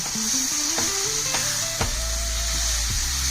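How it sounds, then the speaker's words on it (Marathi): Smoky roasted eggplant bharit being sautéed and stirred in an iron kadhai, a steady broadband sizzle with scraping stir strokes and a few sharp clinks, close and continuous with no talking. "हे छान मिक्स करून छान परतून घ्यायचं आहे"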